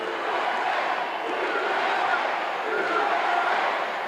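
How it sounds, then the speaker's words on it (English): A large wrestling crowd roars and chants "USA" together continuously, a dense, steady wall of voices filling the arena. "now we've got a cheer going on, and the cheer is USA"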